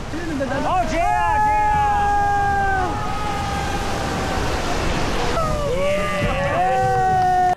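Broad rushing water and surf-like wash fill the ride on a Hozugawa river boat, with people shouting and cheering excitedly over the continuous splashing throughout.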